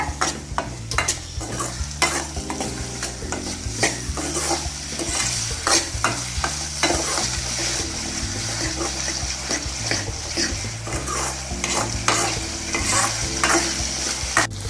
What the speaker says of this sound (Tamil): தக்காளியும் நல்லா சாஃப்டாக வேகிற அளவுக்கு வதக்கிக்கோங்க.